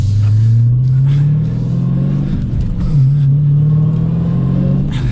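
A modern Dodge Challenger with over 700 horsepower pulls away in first gear, its engine note a loud, steady low rumble that rises and holds close by, with no talking.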